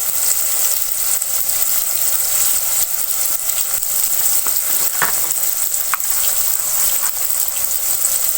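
Potato and capsicum fry with spices in a pan, giving a continuous loud sizzle with occasional scraping stirs, close up and without talking.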